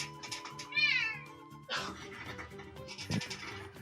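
A cat meows repeatedly in The Sims 3, a wavering, insistent meow rising clearly over a looping game music bed, followed by a second cluster of cat cries and game sounds.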